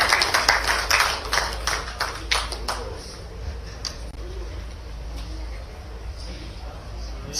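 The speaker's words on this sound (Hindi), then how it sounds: "जोरदार तालियों के साथ आप सभी स्वागत करें सुश्री मीनाक्षी बोकिल जी का" An audience claps to welcome a guest onto a stage at a formal event, a short burst of scattered applause that fades after about three seconds into a quiet room murmur.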